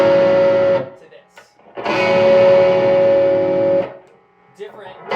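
An overdubbed rhythm part on a distorted electric guitar played through the middle pickup: two loud, sustained, buzzing chords ring out, each held about two seconds, with short pauses between and a bit of noise at the end.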